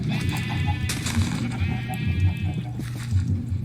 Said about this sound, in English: So I can grab this sheep since he's roaming about anyways.